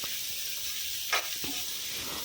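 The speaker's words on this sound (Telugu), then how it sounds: "ఇప్పుడు కొద్దిగా స్ప్రింగ్ ఆనియన్ వేసేసుకొని బాగా ఒక టూ మినిట్స్ కలిపేసుకోండి హై ఫ్లేమ్లో" Spring onion and vegetables stir-fried on high flame for chicken fried rice, a steady faint sizzle with one brief louder hiss of stirring partway through, no talking.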